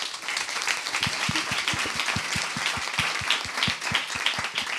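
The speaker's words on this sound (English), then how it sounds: "Please join me in giving our speakers a round of applause." A conference audience applauds its speakers, a dense, steady patter of many hands clapping at a moderate distance, with some sharper nearby claps in an even rhythm and faint voices beneath.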